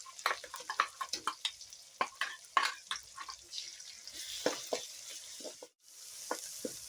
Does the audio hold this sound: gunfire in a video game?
no